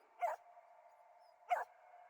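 Dog in the video game Solar Ash gives two short barks about a second apart, each over a steady, quiet tonal game backdrop.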